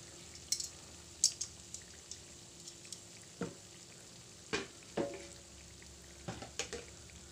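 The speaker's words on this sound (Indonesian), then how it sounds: "ini kita mulai goreng untuk yang mau disimpan ya, yang bentuk frozen" Frozen-style donuts fry in hot oil, a soft, quiet sizzle broken by scattered sharp clicks and knocks as they are turned and handled, with no talking.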